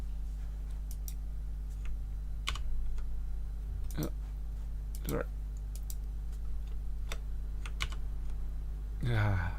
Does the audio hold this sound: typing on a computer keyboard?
yes